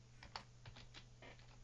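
Quick taps on a computer keyboard while writing a chat message during a Minecraft game, a brief faint burst of irregular clicks over low steady room hum.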